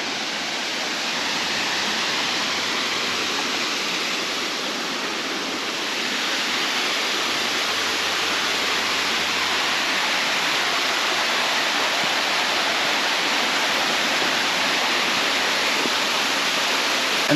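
A small waterfall along the Kondalilla Falls walk gives a steady, dense rush of falling water, loud and close, holding constant for the whole stretch without any voices.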